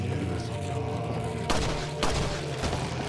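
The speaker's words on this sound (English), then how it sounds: "he died to two pistol shots once he was detached" Two pistol shots in Resident Evil 4 video game, sharp loud cracks about half a second apart, over a dense droning game soundscape with low rumble.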